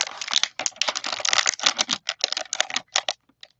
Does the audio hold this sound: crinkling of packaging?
yes